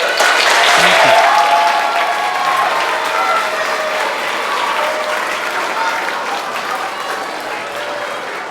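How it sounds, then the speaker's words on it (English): An audience at a youth orchestra concert applauds the parents, loud sustained clapping from a full room that holds steady and slowly thins over several seconds. "Can we give the parents a round of applause, everybody?"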